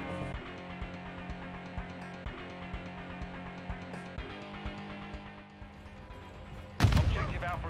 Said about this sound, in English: That's the shotgun like, going.